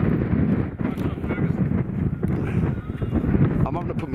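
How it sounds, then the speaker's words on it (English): Wind buffets a partly covered microphone outdoors at a wild camp on Cushat Law, giving a steady, close, low roar with gusty swells throughout. "I'm having to put my hand over the microphone because there's a wind."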